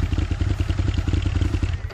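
Motorcycle engine idling close by at a biker rally, a deep, loud, rapid rhythmic thump with a slight mechanical clatter, dropping off near the end.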